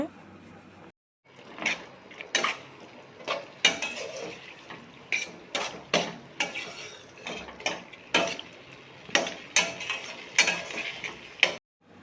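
Mutton liver is sautéed with ginger garlic paste in a pan, a metal spoon scraping and knocking against the pan in a steady series of sharp clatters under a voice talking.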